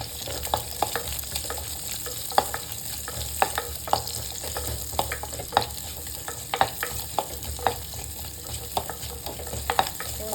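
Shallots sautéing in a pan for maangai koozh, a steady moderate sizzle punctuated by regular sharp spatula scrapes and taps at roughly half-second to one-second intervals.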